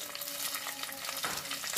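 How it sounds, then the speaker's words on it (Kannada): Mustard seeds, cumin, garlic, green chillies and curry leaves tempering in hot oil in a pan give a dense, steady crackling sizzle with quick pops throughout, close and fairly loud, with no voices. "ಏನೆ ಕರಿಬೇವಿನ ಸೊಪ್ಪು ಹಾಕ್ಕೊಂಡು ನೀಟಾಗಿ ಒಗ್ಗರಣೆ ಮಾಡ್ಕೊಳ್ಳೋಣ"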